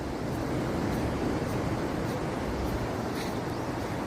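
Strong sea waves wash continuously onto Tubod Beach in Siquijor, a broad, steady roar with a few faint splashes, mixed with some wind rumble and no talking.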